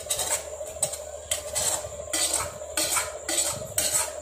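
A metal spoon stirs shallow-fried mushrooms and potatoes in a pan, scraping and clinking against the metal in repeated close strokes with short pauses between them.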